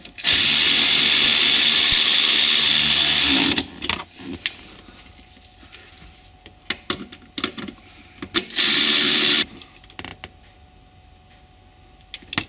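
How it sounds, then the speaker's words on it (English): Power drill or impact driver running bolts down tight while a Nissan Maxima front seat is reinstalled, two sustained loud whirring bursts with quieter clicks and handling noises between them. "Bottom them out with the power tool."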